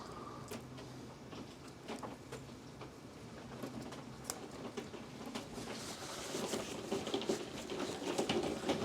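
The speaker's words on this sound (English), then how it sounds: "It is raining cats and dogs out there." Heavy rain falls outside as a faint, steady patter with scattered louder drips and taps, swelling slightly toward the end.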